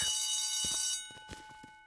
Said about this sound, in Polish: A, słyszę dzwonek.